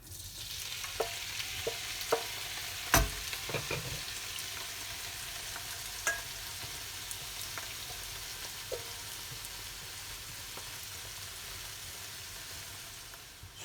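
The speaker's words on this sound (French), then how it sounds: "Et tout de suite après, je rajoute les champignons." Mushrooms and thyme frying in a pan give a continuous close sizzle, broken by a few sharp clicks and stirring knocks early on, with no voices.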